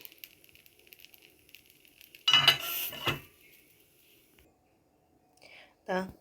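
A metal lid clatters onto an appam pan holding poured batter for soft palappam, two clanks in quick succession followed later by a short knock, set against a quiet kitchen.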